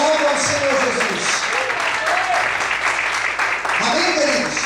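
Continuous applause from a church congregation praising Jesus, a dense and even wash of many hands clapping, with voices rising over it now and then.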